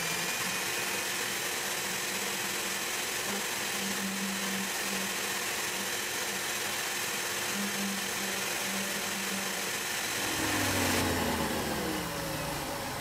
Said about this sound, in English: I'm gonna do some sanding